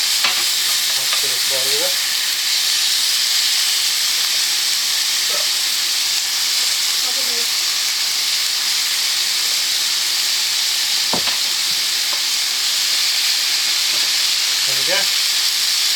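Garlic and pork sizzling together in a frying pan, a loud continuous hiss throughout, with someone speaking briefly over it and a sharp knock near the end.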